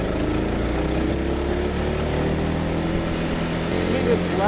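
A Predator 212 engine running on a go-kart, a steady droning hum throughout, with an outdoor rumble beneath and faint voices in the background.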